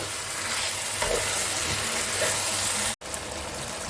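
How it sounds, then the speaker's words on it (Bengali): Mutton pieces stir-fried in hot oil for a Bengali-style curry give a steady, close sizzle and crackle, with stirring scrapes throughout and a very brief break near the end. "মাংসটা অনেকটাই কষা হয়ে গেছে, আরও 5 মিনিট মতো কষতে হবে আমাকে"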